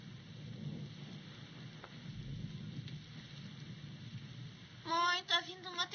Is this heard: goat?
no